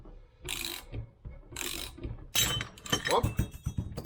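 A bearing puller working a stubborn bearing off a Range Rover differential. Repeated metallic ratcheting clicks come in bursts, followed by clanks and knocks, close by in a workshop.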